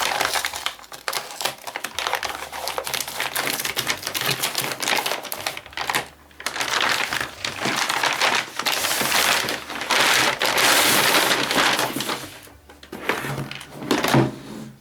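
A Bosch PST 800 PEL jigsaw case bought from Amazon is opened and unpacked at close range: dense clattering, crinkling plastic and packaging rustles, banging and shifting parts, with brief pauses between bursts and no talk.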